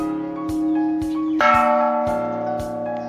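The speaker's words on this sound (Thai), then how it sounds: "ไปตีระฆังตีคล้องก่อนครับ" Bells at a Thai temple in Samut Songkhram are struck repeatedly, with loud, close metallic strikes and long ringing tones that overlap steadily.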